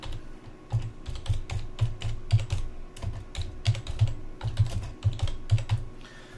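Fast, steady keystrokes on a computer keyboard as an address is typed in, close and clear, clattering in an even rhythm with no voices.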